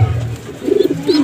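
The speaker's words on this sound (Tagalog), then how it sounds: "Tapang mga kalapatids." Pigeons in a loft coo in low, rolling bursts, a near, fairly loud series of throaty calls with short pauses between them.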